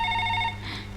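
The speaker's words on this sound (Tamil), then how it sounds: "பாரதி ஃபோன்." A telephone rings in a Tamil comedy film scene, with a steady electronic ringing tone for about half a second before it cuts off and a brief background noise takes over. No one speaks.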